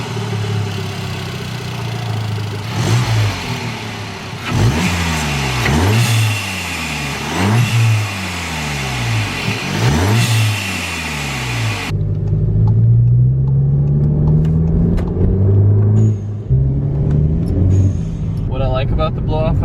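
An MK7 Golf fitted with a Forge Motorsport blow-off valve and twin intercooler revs hard several times in quick rising-and-falling bursts, then settles into a steadier, deeper engine note, all loud and close.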